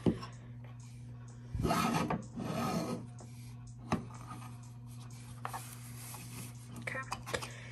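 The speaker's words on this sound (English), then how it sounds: "No, you're gonna scrape it. Try to make sure there's no air bubbles." A vinyl name decal is scraped onto a tumbler, giving close rasping and rubbing strokes in short bursts with light taps, while a steady low hum runs underneath and a person talks.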